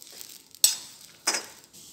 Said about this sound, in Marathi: पहिल्यांदा आपण ही गावऱ्याची शेंगा भाजून घेऊया।